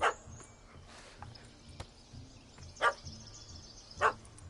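A dog in the video game The Witcher 3 barks three separate times, sharp and moderately near, with quieter ambient game sound in the gaps.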